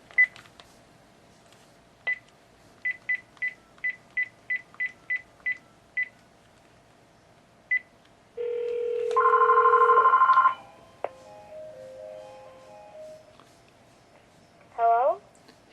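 An old cordless phone calling out over a Magic Jack VOIP line: a run of crisp dialing tone beeps, then a sustained ringback and electronic ring tones, with brief tonal chirps at the end.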